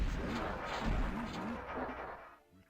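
An explosion in the Doom video game sounds as a loud, booming, rumbling blast that fades out over a couple of seconds, with a voice talking faintly underneath.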